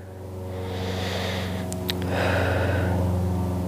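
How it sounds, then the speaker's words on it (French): Slow breathing during a stretching exercise, a long inhale and then an exhale heard close over a steady background hum with soft music-like tones. "Et inspire et expire."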